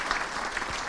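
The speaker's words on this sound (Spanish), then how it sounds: "Vamos a brindarle aplausos" An audience at a national accreditation congress breaks into applause, a brief dense wash of clapping from a crowd, steady and moderately loud for its short span.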